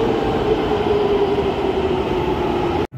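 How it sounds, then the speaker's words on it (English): A newly built Pune Metro train runs in a steady, loud rolling rumble with a sustained mechanical hum, continuous and close before cutting off abruptly at the end. "Riding the Pune Metro."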